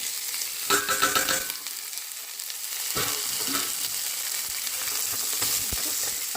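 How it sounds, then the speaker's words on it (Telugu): Cumin, fenugreek powder, coriander powder, cumin powder, turmeric and salt fry in hot oil in a pan for a ridge gourd curry, giving a steady close sizzle with brief stirring scrapes and no talk. "ఇప్పుడు ఇది ఫ్రై అవుతుంటేనే ఇది జీలకర్ర, మెంతుల పొడి, ధనియా పొడి, జీలకర్ర పొడి, పసుపు, ఉప్పు ఇవన్నీ ఫస్ట్ వేసేయాలి."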